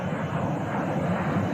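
A jet aircraft, a Learjet or Cessna, passing overhead near Phoenix at night, a steady broad roar that holds loud and even throughout the short stretch.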